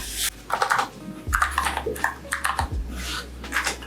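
Budget mechanical keyboard switches pressed in a short burst of clicky, crisp keystrokes, close and fairly loud, with an irregular rhythm of several taps over a low steady background hum.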